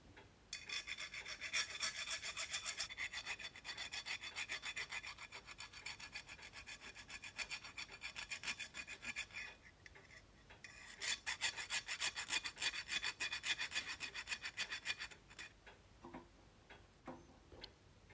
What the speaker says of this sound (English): So I need to remove the burrs from the back of that adapter plate to make it sit nice and smoothly on the tank.